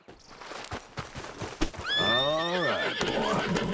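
A horse in Red Dead Redemption 2 gives a loud, clear whinny that rises and falls over about a second, preceded by a series of hoof clops at a walking pace, with no talking.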